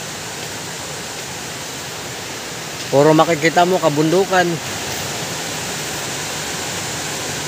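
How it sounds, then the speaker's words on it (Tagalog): Water in a mountain stream rushes steadily, a constant hiss and roar running the whole time, while a voice speaks briefly over it partway through. "Marinig mo lagaslas ng tubig"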